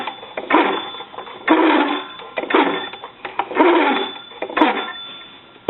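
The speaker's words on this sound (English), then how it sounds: "But it is ringing the bells at this time." Hand crank of an old Kellogg wooden wall telephone, worn and noisy, turned in uneven bursts with rattling mechanical grinding and clattering, close up and loud; no clear bell tone stands out.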